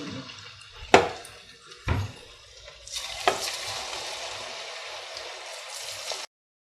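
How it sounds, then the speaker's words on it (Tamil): Cauliflower pieces dropped into hot oil in a kadai, with a few sharp splashing thuds as they go in, then a steady bubbling sizzle of frying. "எண்ணெய் நல்லா சூடாக இருக்கக்குள்ள தான் நம்ம இந்த காலிஃப்ளவர் போடணும்."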